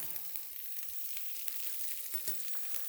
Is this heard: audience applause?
no